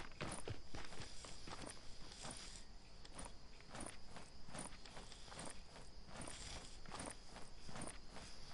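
Rapid, evenly spaced footsteps of a running character in a PS4 video game, a steady patter of light thuds over a faint background hiss, with no talk.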